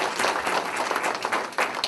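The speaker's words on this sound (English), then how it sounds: "let's give him a round of applause." Applause from an audience gathered at a memorial service, a full, even roll of many hands clapping close by, sustained throughout with slight swells.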